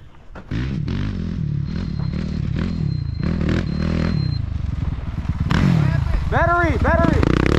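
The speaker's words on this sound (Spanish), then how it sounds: "Aquí vamos empujando la moto ya." A motorcycle being pushed by hand during the San Felipe 250 off-road race, with loud scraping and clattering over rough ground while people talk excitedly nearby.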